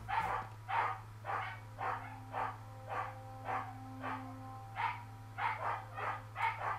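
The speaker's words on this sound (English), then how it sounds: "What on earth are my dogs shouting at?" Several dogs barking repeatedly indoors, a steady series of fairly loud bursts roughly every half second over a constant low hum.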